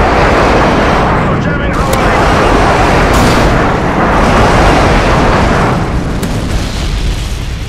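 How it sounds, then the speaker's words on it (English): Airstrike explosions in Call of Duty: Modern Warfare 2 online play: loud, dense booms and rumbling blasts roll on without a break, with sharp pops and game voice lines mixed in. "Friendly airstrike inbound."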